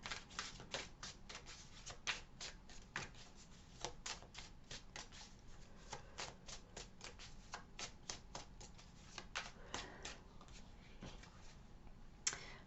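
A deck of cards shuffled steadily for a pick-a-card reading, giving a dense run of quick riffling snaps and soft slaps that carries on for the whole stretch with no talking.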